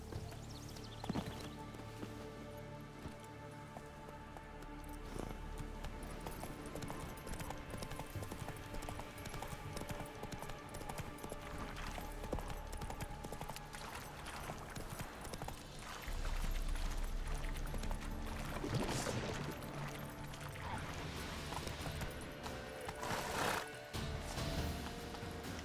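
Hoofbeats of Roach, the horse in The Witcher 3 game, clip-clopping steadily over a layered backdrop of music and ambience for the full stretch, with a possible whinny mixed in and no clear talking.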